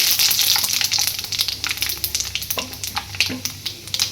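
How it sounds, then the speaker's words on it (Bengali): Panch phoron spices sizzle and crackle in hot oil for tempering mugh dal khichuri, a loud bright frying hiss with scattered pops and stirring that gradually settles. "আমি এখন ফোড়ন দিয়ে দেব। পাঁচ ফোড়ন নিয়ে নিয়েছি"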